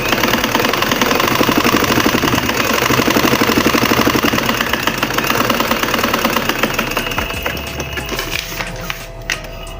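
A sewing machine runs continuously while stitching straight lines on practice paper, a loud, close, rapid mechanical rattle and whir that slows and stops near the end.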